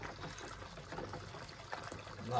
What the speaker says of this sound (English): so I'll turn my tap off now because there's enough water in there